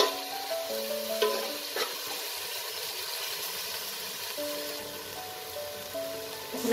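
Tomato paste hits hot spiced oil with a steady, close sizzle and frying crackle, joined by light stirring clatter, with no voices.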